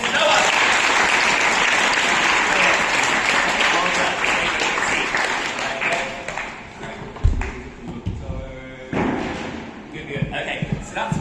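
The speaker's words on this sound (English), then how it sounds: "can we get one more round of applause for Mr. Noah?" A round of audience applause at a kickboxing session, loud and continuous at first, thinning into scattered claps and thuds as people start talking.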